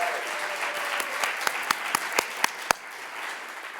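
A tech and policy summit audience gives a thin, scattered round of applause, sparse individual claps standing out sharply over a soft room murmur before dying away.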